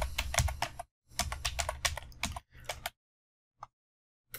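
A computer keyboard is typed on in quick, close bursts of clicking keystrokes, with short pauses between runs and a final isolated keypress, no talking.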